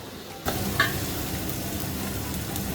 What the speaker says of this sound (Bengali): এখন আমি মেরিনেট করা মাংসটা দিয়ে দিচ্ছি